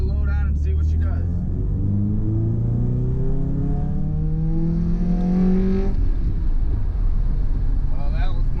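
A car engine, previously set to fault code P0325, accelerates under load in second gear, its rising drone sweeping upward through several revs before it levels off, loud and steady with some cabin rumble.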